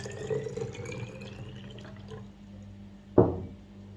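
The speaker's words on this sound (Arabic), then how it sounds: "المهم ناخذ هنا المي مالتنا ونخليه داخل هاي العلبة" Water poured into a small container for mixing cake-decorating colours, a soft trickling and sloshing that fades out, followed by a sharp knock of the container being set down.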